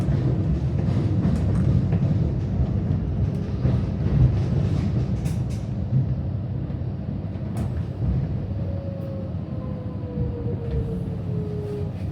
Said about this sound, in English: This train not taking passengers